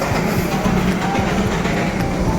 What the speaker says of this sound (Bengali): এই যে স্টিম ইঞ্জিনও এসে গেছে